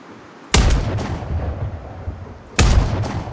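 Two loud, close sniper rifle shots from the game Sniper Ghost Warrior Contracts, about two seconds apart, each a sharp crack followed by a long rumbling echo.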